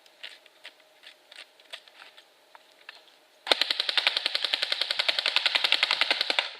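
An airsoft gun fires through a full magazine: a few scattered faint clicks and pops first, then a sudden close burst of rapid, evenly spaced shots in quick succession lasting about three seconds, with no talk.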